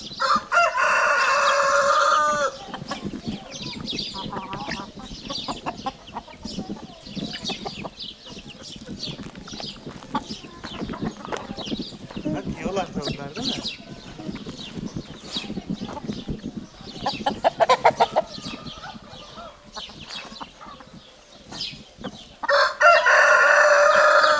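Chickens cluck and chatter continuously up close, with a loud rooster crow bursting out at the start and again near the end.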